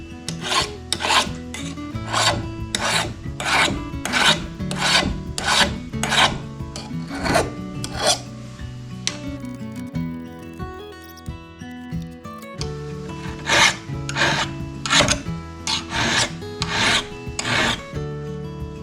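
A hand file works the back of a garden hoe blade in rhythmic, rasping strokes, a steady series of scrapes with a short pause midway before the strokes resume, close and clear.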